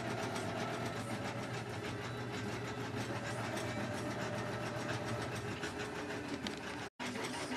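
An embroidery machine stitches out a design, giving a steady, fast mechanical whirr and rattle of needle strokes that runs continuously at moderate level, cut by one brief dropout near the end.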